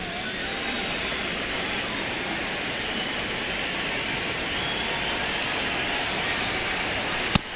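Steady, dense rain pours over the ballpark during a Braves at Orioles game in MLB The Show 26, a constant even hiss throughout, ending with one sharp brief click.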